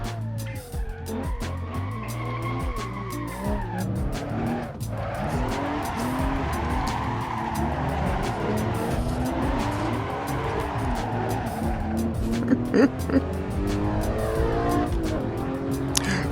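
A manual Porsche driven hard around a race track lap, its engine roaring and revving continuously with gear changes and tires squealing through corners, loud and close throughout.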